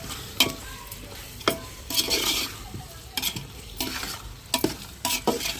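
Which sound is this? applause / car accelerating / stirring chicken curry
stirring chicken curry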